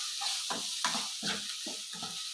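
Chutney ingredients frying in a pan, a sizzling hiss broken by a series of short stirring scrapes in a steady rhythm, close and moderately loud with no voices.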